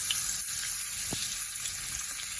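Mustard seeds, curry leaves and crushed garlic frying in a few spoons of hot oil in a pan, a steady soft sizzle and hiss throughout with faint crackles, no talking.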